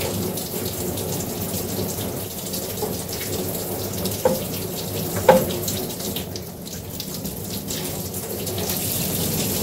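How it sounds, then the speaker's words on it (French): Hot tap water runs steadily into a basin for a dog's shampoo bath, a continuous close splashing flow with a couple of faint knocks partway through. "je vais mettre de l'eau chaude jusqu'à là"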